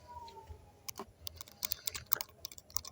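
Brisk, close typing on a computer keyboard while writing Python code for a simple cashier app, with irregular clusters of sharp key clicks and a few harder taps, quiet and without any talking.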